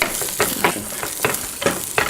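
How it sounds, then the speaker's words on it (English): Onions and pancetta fry in a pan with a steady, loud sizzle close by. Periodic scraping stirs break through about every half second, and nobody speaks. "Let's go back over here and check on our onions and pancetta."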